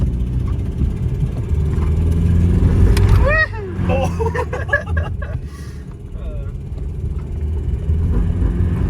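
A car's engine runs steadily while driving, with a low rumble throughout and a brief rise around the middle, as people talk over it.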